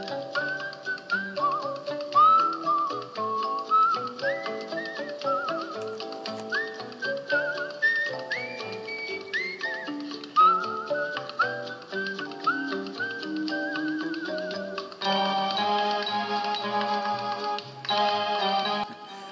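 A vinyl record plays whistled Hawaiian music, a clear melodic whistle gliding between notes over a light ticking accompaniment, continuous and moderately loud.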